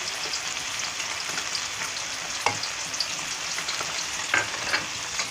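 Grated tomatoes and tomato paste fry in a pan with a steady, close crackling sizzle, punctuated by a few soft spoon-stirring clicks and scrapes. No voice is heard.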